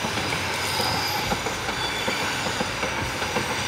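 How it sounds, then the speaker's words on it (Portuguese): A train rumbles steadily along a railway line through the bush near a river, its wagons rolling by with continuous loud wheel noise and faint squeals, no one speaking. "o trem de ferro tá passando lá na linha,"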